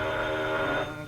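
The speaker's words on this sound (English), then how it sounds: "Confound that phone." An old-fashioned telephone bell rings steadily in a newspaper office, a continuous metallic trill that fades slightly at the end, heard alone without talk.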